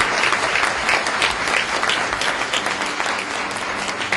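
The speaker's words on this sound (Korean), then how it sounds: "박수 부탁드립니다" Steady crowd applause fills a hall at a Daegu-Gyeongbuk LED-IT convergence industry vision proclamation ceremony, dense and continuous from start to end with no voices over it.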